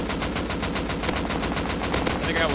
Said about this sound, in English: I'm shooting them.